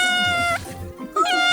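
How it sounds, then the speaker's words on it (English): A cat meows loudly and close by in two drawn-out, tonal calls separated by a short pause, heard during a mountain trip in Armenia. "Oh, look at that cat by your foot."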